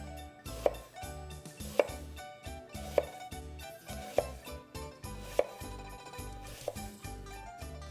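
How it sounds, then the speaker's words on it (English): Knife cutting apples into very thin slices on a board, evenly spaced crisp taps roughly every second, close and clear over faint background music. "I'm just gonna slice it with my knife in very, very thin slices"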